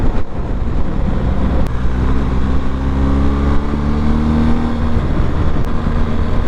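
A BMW motorcycle, an S1000XR or GS 1250, revs steadily with a continuous engine drone whose pitch climbs and settles as it shifts up through the gears, loud and close with no talking.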